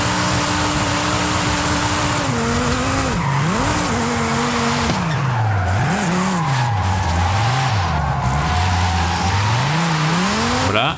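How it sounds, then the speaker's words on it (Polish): Drifting car in Forza Horizon 5 with a tuned drift build, engine howling and revving in sweeping pitch swings while tires skid and squeal continuously, loud and close throughout with no pauses. "Jedziemy najpierw na tamto rondo, zawrócimy sobie oczywiście driftem."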